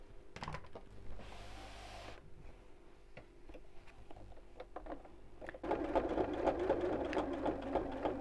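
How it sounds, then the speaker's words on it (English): A sewing machine stitches around the edge of a fabric purse, with steady mechanical whirring broken into short bursts and pauses before a louder, continuous run near the end. "we're going to sew all the way around the edge here"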